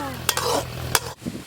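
Pumpkin halwa, sprinkled with cardamom, is stirred continuously in a pan over low heat, giving a close, soft scraping and thick bubbling with two sharp strokes against the pan, then a short pause before stirring resumes.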